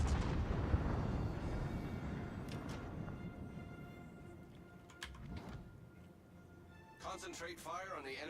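Warship guns fire in a naval battle game: a deep, rumbling, booming blast that slowly fades, followed by scattered clicks and a warbling tone near the end, all fairly quiet, with talk present.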